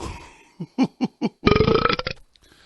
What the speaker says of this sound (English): Santa burps.